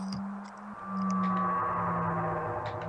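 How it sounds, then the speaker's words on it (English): A sustained, eerie tonal drone from the Final Fantasy VII video game, representing a planet crying, with a steady low hum and a wavering higher tone under faint airy textures, continuous and fairly loud throughout. "That's the sound of the planets crying."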